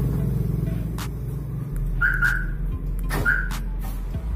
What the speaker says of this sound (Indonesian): sudah selesai pemasangan remote alarm ya, kita coba